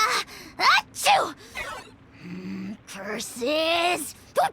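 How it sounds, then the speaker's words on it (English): A video game character lets out a single loud sneeze in the middle of a warrior ceremony scene, with other voiced characters speaking around it. "Achoo!"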